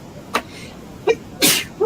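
A loud, sharp sneeze close by, preceded by a couple of short, breathy bursts.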